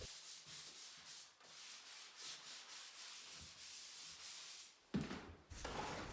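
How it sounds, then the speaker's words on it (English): Skim coat drywall compound being rubbed into wall corners, a continuous rhythmic scraping and rubbing hiss with steady back-and-forth strokes, close and quiet, with a brief louder scrape near the end. "As you can see, I'm rubbing in my corners just to get a straight line."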